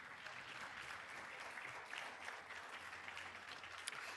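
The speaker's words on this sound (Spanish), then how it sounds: "Yo creo que podemos aplaudir más fuerte que eso" Faint, steady applause from a congregation welcoming listeners at a church service, even clapping throughout with a slight crowd murmur.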